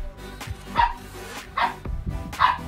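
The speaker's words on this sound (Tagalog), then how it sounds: "Sorry, ang ingay ng aso ko." A dog indoors barks three times in quick yips spaced about a second apart, fairly close, with low background noise between barks.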